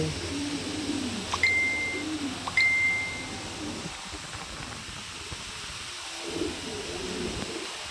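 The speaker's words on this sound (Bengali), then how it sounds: "কত সুন্দর প্রজাতির কবুতর।" Pigeons of fine breeds on a pigeon farm, with low soft cooing in the first half, two short high chirps near the start and a faint hum of background noise.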